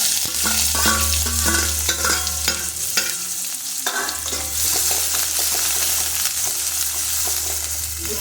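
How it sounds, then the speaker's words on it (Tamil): Small onions sauté in hot oil with mustard seeds and urad dal for an idli chutney: loud, continuous sizzling with repeated spoon scrapes and stirring clatter over a low hum. "சின்ன வெங்காயத்தை நல்லா வதக்கிக்கோங்க."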